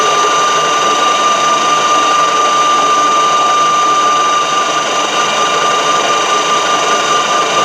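A lathe takes a cut with a Dickson tool holder at long stick-out, producing a steady, loud, high-pitched ringing chatter that holds evenly throughout without talk.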